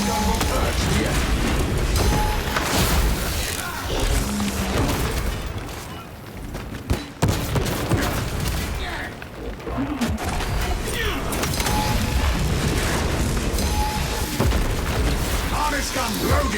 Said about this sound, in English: My harness gun will purge the enemy.